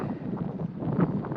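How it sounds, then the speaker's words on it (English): Steady low rumbling wind buffeting the microphone outdoors in Virginia, loud and continuous throughout with gusty swells and no voices. "pardon the wind. It's very windy."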